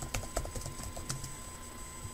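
Typing on a computer keyboard while entering a folder name for a Windows 10 Insider build: quick, light key clicks in an irregular burst, close and fairly quiet.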